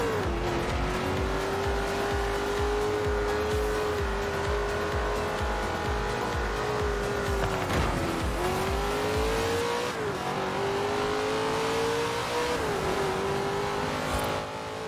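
Cars in the Forza Horizon 4 racing game, including a Viper and a BMW, drive through a tunnel with a loud continuous engine drone whose pitch rises and dips with shifting, mixed with tire noise and no talk.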